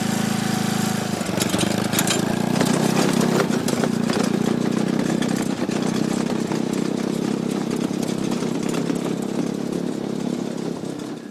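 A four-wheeler engine runs steadily close by, a loud continuous chugging drone with a rattling, clip-clop-like rhythm that holds throughout with no talking.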